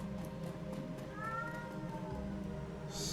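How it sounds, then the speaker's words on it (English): A streamer's pet cat meows somewhere in the room, thin rising calls sitting faintly over steady game background sound. "And my cat is making noise."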